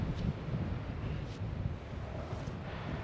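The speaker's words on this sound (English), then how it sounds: "Here comes the wind." Steady freezing wind rushes past the microphone in a broad, continuous roar, with faint rustling and slight swells in strength, on a mountain at Jervfjellet, Norway.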